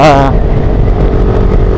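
A motorcycle engine drones steadily while riding on a road in Cavite, close and loud, with constant wind noise around it.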